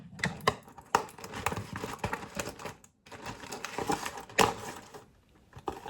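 Kitchen scissors snip food into small pieces for wontons in quick, irregular bursts of crisp cuts and clicks, close by, with short pauses between runs.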